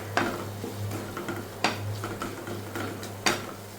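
Onions fry in a pan with a soft sizzle under sharp, periodic spatula scrapes and taps as they are stirred, heard close with a low steady hum underneath and no speech.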